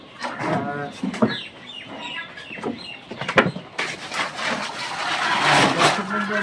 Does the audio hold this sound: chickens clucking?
yes